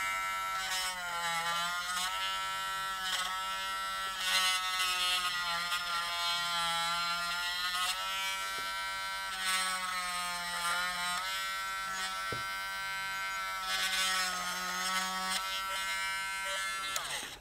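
An electric tool polishes an RC drift car shock absorber with a steady, close, high-pitched motor buzz that runs continuously with only slight wavering.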